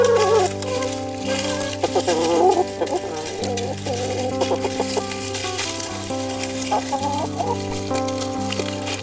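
Backyard chickens, offered cucumbers as a snack, cluck nearby in short wavering calls over a steady tonal background that runs the whole time.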